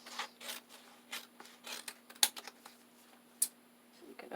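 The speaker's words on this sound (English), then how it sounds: "cut off the edges" Scissors snipping the edges off paper for a junk journal collage pocket page, a series of quiet, crisp cuts in an uneven rhythm, close by with a faint background hum.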